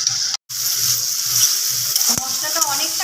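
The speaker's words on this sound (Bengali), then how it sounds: "এবার এই টমেটো পেস্ট দিয়ে আলুটাকে ভালোভাবে একটু নেড়ে চেড়ে নিচ্ছে।" Potatoes stirred with tomato paste and spices in a hot pan give a continuous close sizzle with rhythmic scraping strokes, broken by one brief dropout and a sharp knock near the end.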